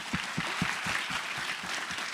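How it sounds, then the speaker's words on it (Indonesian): Audience applause at a mindfulness festival talk, steady broadband clapping from a crowd with a few louder individual claps near the front, continuous for about two seconds without talk. "Tepuk tangan dulu deh."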